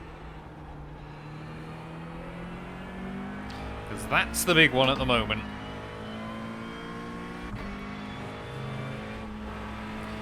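A McLaren GT3 race car on the Nürburgring in iRacing holds a steady, close engine drone with a brief surge in revs midway, while someone talks over it throughout.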